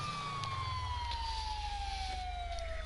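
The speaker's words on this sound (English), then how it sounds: "I'm going to turn off the sirens so that it's easier to hear, but you'll leave them on" A police car siren in a video game wails as one steady, slowly falling tone over a constant low engine drone, loud and continuous throughout.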